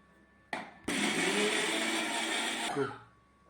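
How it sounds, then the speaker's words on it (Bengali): A mixer grinder grinding spice paste switches on with a short burst, then runs at a loud, steady high-pitched whir for about two seconds before winding down. "এখন মিক্সি করে নেব।"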